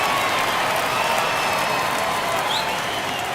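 A baseball video game crowd in the bottom of the ninth, a 1-run Phillies vs Brewers NLCS game, gives off a steady, dense roar and applause, loud and sustained, with faint voices mixed in.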